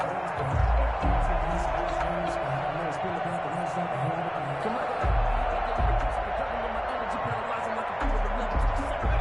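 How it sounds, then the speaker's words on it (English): In a PS4 American football video game, a stadium crowd cheers in a steady, dense roar that continues throughout, with thumping low bursts underneath. "this crowd loves it as their guys hold on the opening drive"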